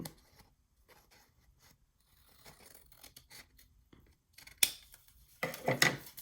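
Scissors trim an overhanging edge of single-sided paper for a mini album flipbook, with a few quiet snips and rustles, then louder cutting strokes near the end, close up and without speech.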